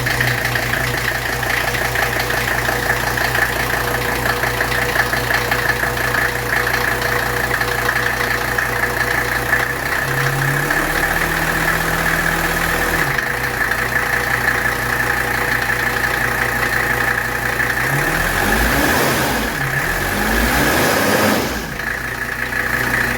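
A 1982 Mercedes 300D diesel engine idles steadily and loudly throughout, with a brief shift in its low rumble partway through and a few clanks near the end.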